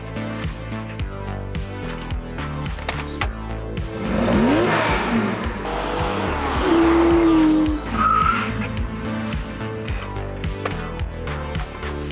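A Porsche 911 sports car drives past with tires squealing and skidding, and its engine revs loudly in the middle of the clip over steady background music.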